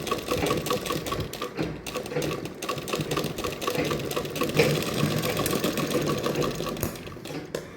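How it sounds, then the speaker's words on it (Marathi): A sewing machine stitching fabric for a blouse, its fast even needle rattle running close and continuous throughout with small shifts in pace. "शिलाई मारतो आज"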